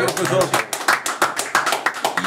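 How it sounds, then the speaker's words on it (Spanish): Hands clapping in rhythmic, evenly spaced bursts during a football talk show, near and clear, mixed with people talking over it. "Aplauso, profesor."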